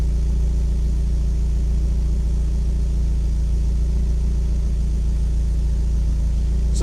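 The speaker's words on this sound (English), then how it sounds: "So this sounds actually pretty good, and the idle sounds okay." A Mazda Miata engine running on Megasquirt fuel injection idles steadily, a loud, close, continuous low rumble with an even throb and no talking.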